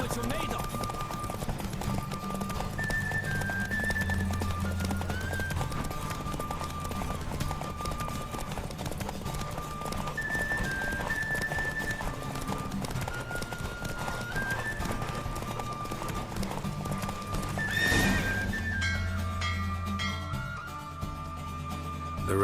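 Hooves of the horse Roach clip-clop steadily through a galloping race in The Witcher 3, a continuous rhythmic beat under game music and voices talking throughout.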